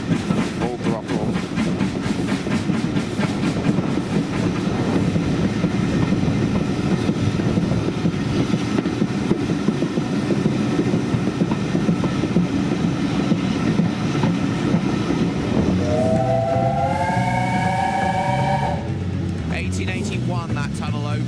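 A Bluebell Railway train runs at full throttle downhill through a tunnel, a loud continuous rumble and rattle of wheels and carriages heard from on board, with a rising whistle-like tone near the end.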